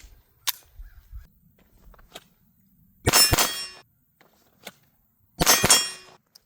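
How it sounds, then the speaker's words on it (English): Pistol double taps fired at a shooting range ring out as two sharp bursts of paired shots with bright metallic clangs, separated by quieter handling noises and isolated single impacts. "We're gonna do one more mag full of double taps."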